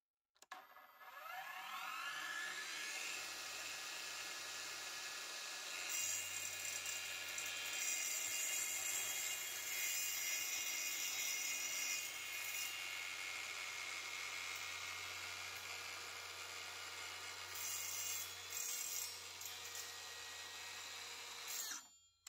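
A Parkside Performance PPTSA 20-Li cordless plunge saw, set for a 1 mm pre-cut, spins up to a steady high whine, runs for about twenty seconds, then winds down; fairly quiet overall.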